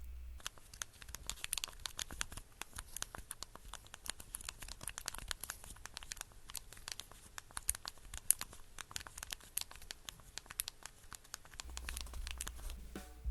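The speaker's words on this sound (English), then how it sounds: "The slide-out keyboard still works great and has a nice click sound while typing." A Samsung i760 smartphone's slide-out keyboard clicks steadily during typing, a quick run of small, crisp taps that is close and fairly quiet, with no talk.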